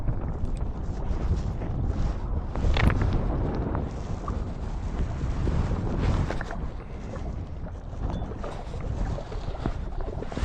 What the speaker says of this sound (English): there's a good wind on it, pulling it across to the right